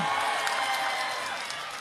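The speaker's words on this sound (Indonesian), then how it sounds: "Yang sebelah sini tepuk tangannya mana?" A crowd applauds at a Dedi Mulyadi speech in Indramayu, a dense steady wash of many hands clapping at moderate distance, continuous throughout with no voices standing out.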